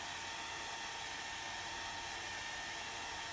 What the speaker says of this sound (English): I'm going to just use a hairdryer just to speed up the drying process